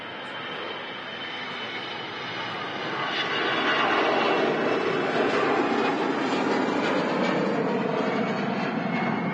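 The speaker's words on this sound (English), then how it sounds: "an EasyJet departing with the old CF 56 engines. I could hear that transonic buzzsaw sound from the blades going," An EasyJet jet departs Manchester Airport on its old CFM56 engines, a broad roaring rumble with a rasping buzzsaw edge that swells as it climbs away, steady and fairly loud with no talk.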